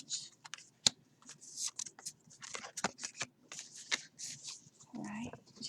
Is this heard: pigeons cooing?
no